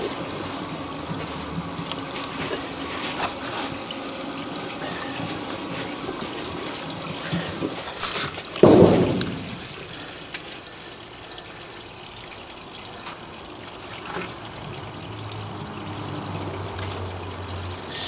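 Water rushes steadily through a city sewer line running 7 feet 6 inches deep beneath a street, with a louder surge partway through before the flow settles into a softer, continuous wash.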